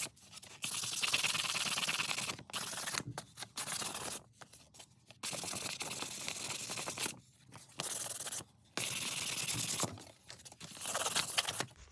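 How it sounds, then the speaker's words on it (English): Sheet of 600 grit sandpaper rubbed over dried paint on a small wooden heart, giving a steady close scratchy rasp in repeated strokes broken by short pauses. "I'm just gonna take some sandpaper to it"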